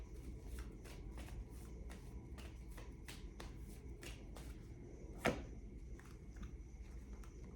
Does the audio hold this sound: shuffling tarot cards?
yes